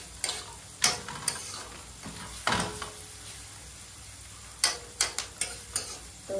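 Onions with masala and tomato frying in a pan in a village kitchen, a soft sizzle underneath while a spoon scrapes and clinks against the pan in short, uneven strokes, close by and fairly quiet.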